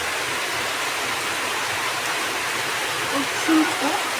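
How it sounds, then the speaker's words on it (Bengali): Rain falls outdoors while children play football, a steady broadband hiss across the whole stretch with a few faint low voices briefly rising near the end. "এই যে দেখেন বৃষ্টির মধ্যেও যে বাচ্চারা খেলতেছে ফুটবল"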